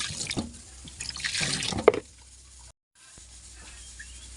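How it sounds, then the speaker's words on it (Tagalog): Fish rinsed under running water at a kitchen sink, with a steady splash and patter for about two seconds that then fades to quiet dripping, alone without talk. "hugasan na natin yung ating fish. Hugasan natin."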